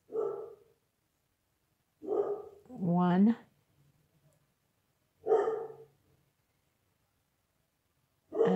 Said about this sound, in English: Sorry about the dogs, but when they see a cat, they see a fly, they see anything go by, they start barking.